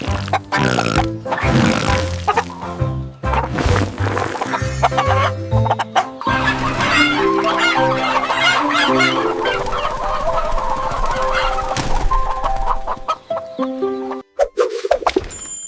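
Chickens clucking busily and repeatedly, several birds close by in a steady, chattering flock with some low grunting mixed in.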